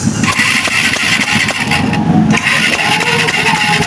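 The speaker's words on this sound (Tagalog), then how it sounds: "nagpapandar tayo ng patay na motor nagaya nito kailangan natin subuhayin so, testing natin kung may compression" Someone cranks a long-dormant motorcycle engine to test its compression, giving repeated rhythmic chugging turnover strokes with scraping and mechanical clatter, loud and close, with no voices.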